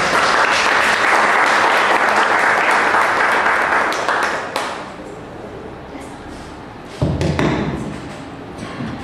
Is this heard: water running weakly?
no